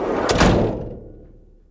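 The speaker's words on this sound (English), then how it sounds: "just close the van door" A van door slams shut with a sharp, heavy impact, then a low rumble that fades out over about a second.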